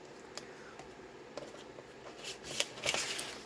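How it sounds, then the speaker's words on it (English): Scissors snip through the flap of a Tyvek envelope in a few faint, quick cuts, soft crinkling and rustling building toward the end. "And I'm just going to cut off the flap here."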